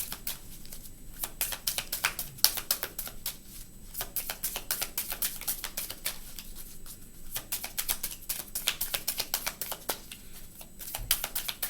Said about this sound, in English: I shuffle until a card comes out